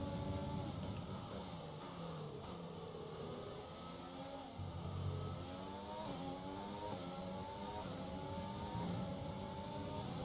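Formula 1 car engines in the F1 2020 racing game, a continuous loud high-pitched whine rising and falling in pitch as the cars jostle through an overtake, with several engine tones layered together.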